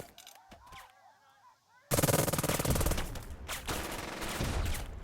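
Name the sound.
gunfire, return fire in the WW2 video game Burden of Command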